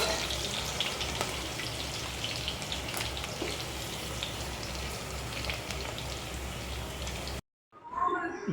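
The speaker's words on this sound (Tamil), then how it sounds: "இன்னும் ஒரு 2 நிமிஷம் வதங்கட்டங்க." Onions with a couple of cashews frying in a pan give a steady, close sizzle that crackles evenly for about seven seconds before cutting off abruptly, followed by a brief rustling.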